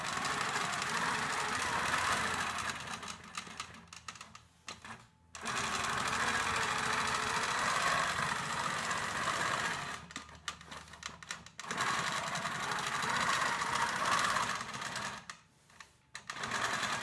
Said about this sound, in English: Quilting a straight line is so much easier when you use a ruler and the ruler base.